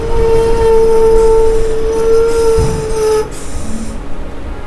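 A Diva-Roha MEMU train runs through heavy rain, its steady rumble and hiss carrying a long high tonal whine that fades after a few seconds, leaving a softer wash of noise.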